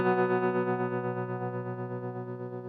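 Electric guitar through a Vox amp with its built-in spring reverb, a single sustained chord ringing out and slowly decaying with a gentle wavering shimmer, alone and fairly quiet.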